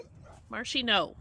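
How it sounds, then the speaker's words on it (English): A dog in a backyard garden in February gives a few close, loud yipping barks with a whimpering edge, while someone speaks to it over them. "And sorry about the barking."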